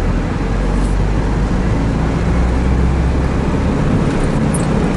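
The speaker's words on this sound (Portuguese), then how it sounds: "Passa o caminhão pesado aí." A heavy truck rolls along a damaged city road, a steady loud low rumble of engine and tyres filling the whole stretch, heard from nearby with no talk.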